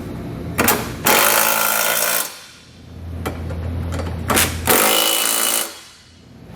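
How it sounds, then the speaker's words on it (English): An 11/16 socket on a ratchet snugs down the flange nuts of a Curt trailer hitch receiver on a 2018 Chevrolet Cruze, giving two loud bursts of rapid metallic clicking with a quieter clatter between them. "we can come back with an 11/16 socket, and we're going to snug up all the flange nuts."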